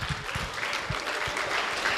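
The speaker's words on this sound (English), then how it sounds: "Mr. Woods, give him another round of applause." Applause from a middle school audience in an assembly, a dense wash of clapping with low thumps scattered through it, steady and fairly faint over the whole stretch.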